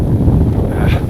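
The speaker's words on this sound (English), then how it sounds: "It's really windy on this side." Strong, cold wind on Gaji Mountain buffets the microphone, a steady loud low roar throughout with no talking.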